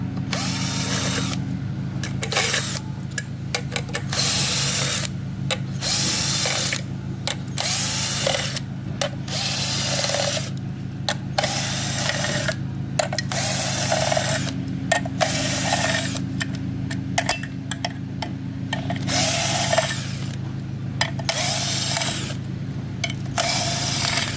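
Ryobi cordless drill boring into steel, a sustained whining motor with repeated short bursts and pauses as the trigger is pulled and released, close and loud throughout, no voices.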